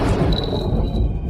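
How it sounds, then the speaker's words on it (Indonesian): Loud, deep thunder rolls through the whole moment as a continuous low rumble with a thin high tone running over it. No one speaks. "Cuma petir, tidurlah."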